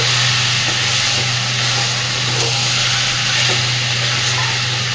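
Chicken keema frying in oil in a pan, a steady dense sizzle that stays loud and close throughout, with a constant hum beneath it.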